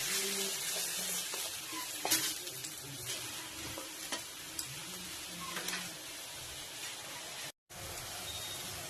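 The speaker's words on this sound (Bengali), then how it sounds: "দেখো কত সুন্দর ফুটে এসেছে এভাবেই কিছুক্ষণ ফুটতে দেবো" A mustard fish curry with mustard, ginger and green chilli paste bubbles and simmers in a pan, giving a steady, soft sizzling hiss with occasional pops, close but fairly quiet, with no talking.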